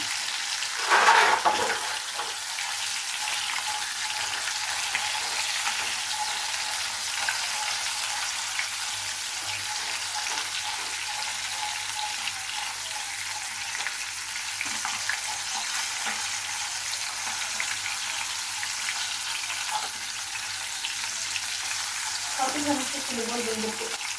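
Koi fish fry in hot oil in a pan, a steady bright sizzle running throughout with a few louder spatters when the pieces are turned.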